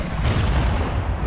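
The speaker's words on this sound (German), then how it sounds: "Der Einsatz von Kanonen auf den Straßen von Paris machte Napoleon berühmt" Cannon fire on the streets of Paris in Assassin's Creed Unity: a single deep boom followed by a heavy low rumble that lingers and slowly fades, with no voices.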